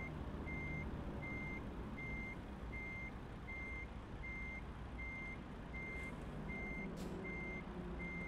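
A truck's reversing alarm in American Truck Simulator beeps steadily in an even repeating pattern over a constant low engine rumble, with no talk.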